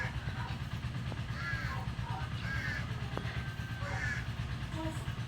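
A crow caws several times in short, harsh calls spaced through the clip, close and clear over a constant low mechanical hum.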